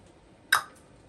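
A single sharp clap-like percussion hit in a beat, one crisp bright transient with a short decay and a faint echo just after, alone over near silence.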